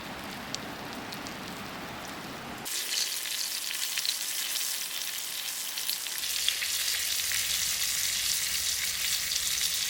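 Floured, seasoned pork starts frying in a pan at an RV campsite, a sudden loud hiss that settles into a steady, dense sizzle and crackle, close up with no talking.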